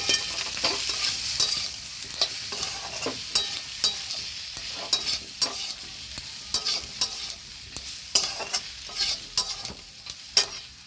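Spice masala with Kashmiri chilli powder and cumin powder fries for Bhoger Labra as a spoon stirs it, giving a close sizzle with rapid, rhythmic scraping strokes across the pan and no voices.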